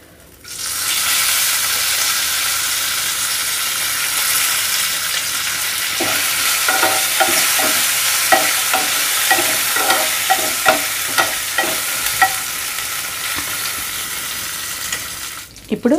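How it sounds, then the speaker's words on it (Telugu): Curry leaves drop into hot tempering oil and set off a loud, continuous spitting sizzle. A run of crackling pops comes in the middle before it dies away near the end. "మనకి ఈ వేడికి కరివేపాకు ఫ్రై అయిపోతుంది"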